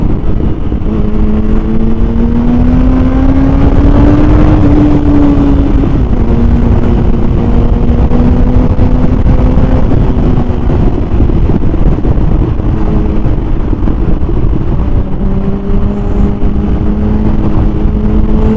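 A car travels along a heavily packed road, its engine a steady loud hum under constant wind rush, the pitch rising and dipping as it speeds up and eases off.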